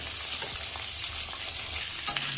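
Carrots and potatoes fry in a pan for a mixed vegetable dish, giving a continuous close, loud sizzle with faint scraping of a stirring spoon underneath.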